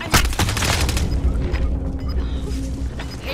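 An incoming artillery round detonates in the Warzone Rebirth battle royale game, a loud, close boom whose heavy low rumble rolls on for several seconds.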